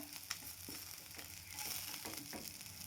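Onion and garlic dry-roasting in a pan for a Hyderabadi paneer gravy, a soft, steady crackle and hiss throughout with faint occasional scrapes of stirring, quiet and close, no voices.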